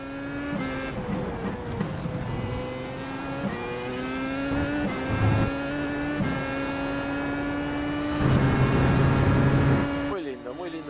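An old Williams Formula 1 car being driven hard around a track, its high-pitched engine screaming steadily up through the revs with abrupt gear changes and a brief deeper surge, close and loud throughout.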